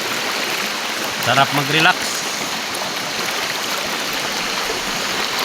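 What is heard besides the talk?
fresh cold stream water flowing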